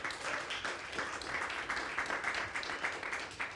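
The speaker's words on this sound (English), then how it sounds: "Big round of applause for that." Conference attendees applaud at an industry event, a moderately quiet but continuous patter of clapping with a pulsing rhythm, no voices over it.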